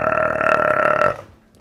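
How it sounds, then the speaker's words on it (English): A grown man lets out one long, loud, resonant burp lasting about a second, close to the microphone, followed by near silence. "I burped all over it."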